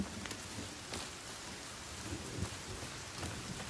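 Steady rain pours in the survival video game The Forest, a dense, even hiss with soft low rumbles that may be thunder, continuous throughout with no talking.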